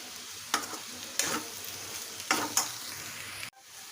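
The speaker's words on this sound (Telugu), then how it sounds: "కొంచెం కారం ఇప్పుడు బాగా కలుపుకుంటా" Potato fry with chili powder being mixed in a pan: a soft continuous sizzle broken by four sharp scraping strokes of a spoon, nearby but quiet, with no voices, ending in a sudden cut.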